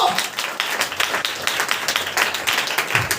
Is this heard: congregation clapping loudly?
yes